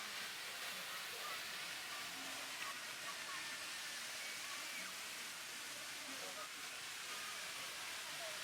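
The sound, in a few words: rushing water of the Rapid River theme park ride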